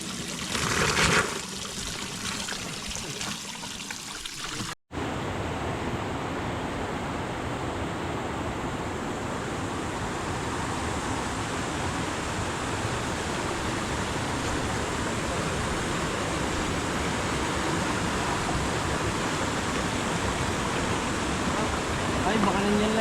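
A strong mountain stream rushes with loud, steady broadband noise that runs unbroken from about five seconds to the end, after a short, quieter opening and a brief cut.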